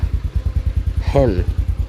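An ATV engine idles low with a steady, even pulse of firing thumps close by, and a short tonal sound cuts in briefly partway through.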